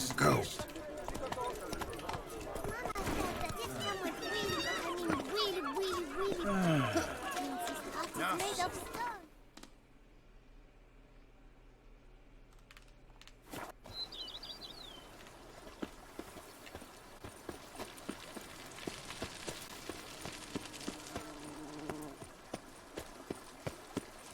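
Roach the horse gallops in The Witcher 3 with steady rhythmic hoofbeats over busy game music and voices, then the scene drops to near silence before faint ambience and occasional clops return.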